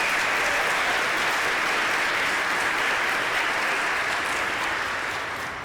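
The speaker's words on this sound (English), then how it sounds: "if we could give her a round of applause" Sustained audience applause fills a hall at a Martin Luther King celebration event, a dense steady roar of many hands clapping that holds loud throughout and eases slightly at the end.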